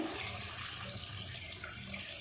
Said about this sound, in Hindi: अब इसमें हम चावलों के लिए पानी डालेंगे।